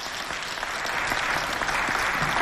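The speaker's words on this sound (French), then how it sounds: "Applaudissez pour James, s'il vous plaît." Crowd at a live stage show bursts into steady applause, a thick wash of many hands clapping together, sustained and moderately loud for the whole moment with no voices over it.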